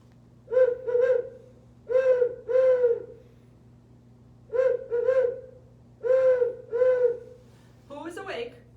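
A person's voice imitates a great horned owl, giving a rhythmic series of low hoots in short grouped phrases, repeated several times with pauses between, close and clear over a steady low hum, ending with a brief breathy sound.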